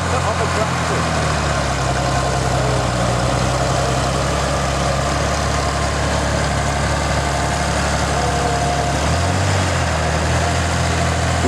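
A stock Cockshutt 1750 tractor engine runs steadily at a tractor pull in Powassan, Ontario, a loud, continuous low rumble that holds an even idle-like drone throughout, dipping briefly near the end.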